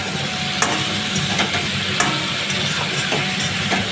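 Vegetables and chopped tomato sizzle steadily in a hot pan, with the hiss of frying running throughout and a few soft clinks from stirring.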